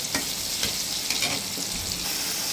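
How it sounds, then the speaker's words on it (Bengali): Fish fried in oil with tomato and onion, a continuous close sizzle broken by repeated spatula stirs and scrapes. "মাছ আর টমেটো পেঁয়াজ কষাই নিচ্ছি।"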